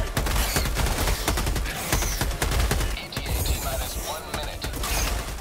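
Sustained SMG gunfire in the video game Helldivers 2, a dense rattle of rapid shots over loud battle noise and explosions, with a voice briefly speaking over the chaos.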